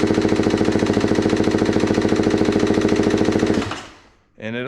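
A 2024 TX 300 two-stroke engine with a high-compression RkTek head cranks at wide open throttle during a compression test, giving a steady, rapid, loud chugging that runs for several seconds before winding down and stopping.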